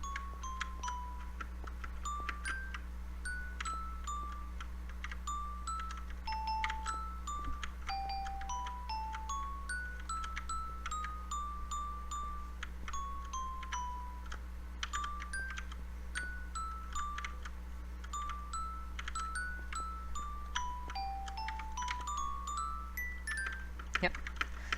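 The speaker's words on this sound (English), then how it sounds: "Yep, that's the little chime." A little note block clock tower in a video game plays a chime as a long run of bright, plinking tones that step up and down in pitch, quiet and steady over a low constant hum.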